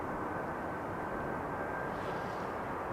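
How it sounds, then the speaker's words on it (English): A small Air France Airbus arriving from Paris Charles de Gaulle roars steadily on approach to runway 18R at Amsterdam Schiphol. The engine noise is an even, continuous drone with no voices. "the little Airbus from Air France coming in from Charles de Gaulle"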